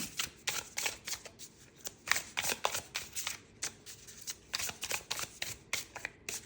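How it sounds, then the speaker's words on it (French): Tarot cards being riffled and shuffled by hand, a rapid run of crisp papery flutters repeating in short bursts, close and clear, with no talking. "Pareil, on va mélanger un coup, là aussi."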